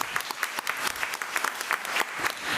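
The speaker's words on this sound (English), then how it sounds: "let's give them another round of applause" Audience at a county Committee of the Whole meeting claps for middle school teams, a moderate, fairly steady patter of many hands with some sharper individual claps, no voices standing out.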